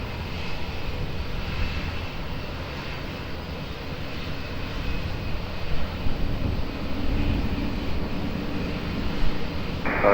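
A Delta 249 Heavy jet airliner at Lisbon Airport gives off a steady, broad engine roar with a low rumble that lasts the whole ten seconds and swells slightly midway.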